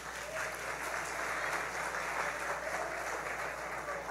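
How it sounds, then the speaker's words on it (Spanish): A church congregation at an evangelistic service applauds steadily, a dense, continuous wash of clapping from a large crowd heard at moderate distance, with no speech over it. "Aplauda esa."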